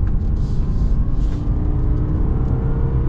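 A 2024 Subaru Forester's flat-four engine accelerates under a steady, loud cabin rumble and road drone, continuous and close with no talking.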